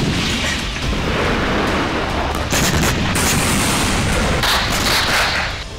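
A huge explosion blasting a dam during the Russia-Ukraine war gives a loud, continuous roaring blast rumble that swells again midway and near the end, with no voices.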